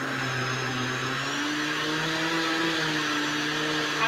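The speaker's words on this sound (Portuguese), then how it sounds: "Agora, o liquidificador fica com um pouquinho mais de dificuldade de bater." A blender strains as it mixes thick pink gelatin cake batter with flour, giving a steady, moderately loud whirring motor hum with a slowly shifting pitch and no speech.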